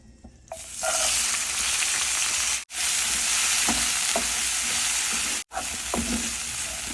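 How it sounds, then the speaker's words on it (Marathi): Moong sprouts tipped into hot oil already seasoned with hing and turmeric, giving a loud, steady sizzle that starts within the first second, with scraping stirs and brief pauses in the frying hiss. "हे आपण आता मुगाचे स्प्राउट यात घालूया"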